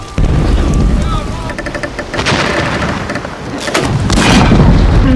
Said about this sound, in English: When the guns fired.